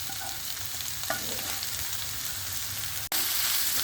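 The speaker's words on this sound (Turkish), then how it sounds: "Kıymayla birlikte soğanları da 1 dakika kavuruyorum" Minced meat and onions fry with spices in a pan, a continuous crackling sizzle with stirring scrapes and a brief sharp knock near the end.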